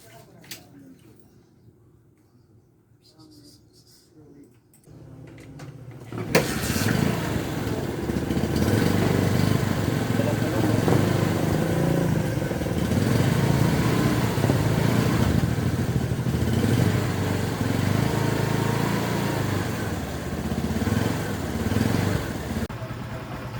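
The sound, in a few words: Honda Supremo TMX motorcycle engine running after oil change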